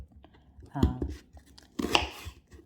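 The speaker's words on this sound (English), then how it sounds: "So we're just gonna chop up all our ingredients into" Knife chopping herbs and ingredients for herbed fried rice on a board, two separate bursts of crisp cutting strokes heard close up, with a voice talking in between.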